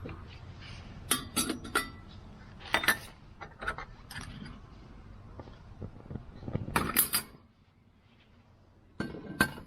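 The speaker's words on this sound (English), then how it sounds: "I'm going to have to put the simmer ring on" Metal simmer ring being set onto a kitchen stove under a pan, a run of scattered clinks and clanks of metal against metal and glass, followed by a brief lull and one last clatter.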